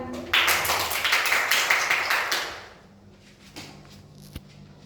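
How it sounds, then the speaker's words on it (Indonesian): Students in a classroom give a short round of clapping after group presentations, loud at first and fading out within a few seconds, followed by quiet room sound and a single tap. "Beri tepuk tangan."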